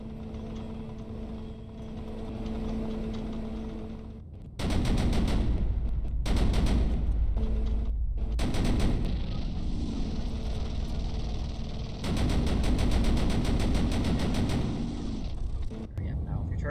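Tank autocannon firing in the game Sprocket, bursts of rapid loud shots in several volleys over an idling engine and turret machinery hum.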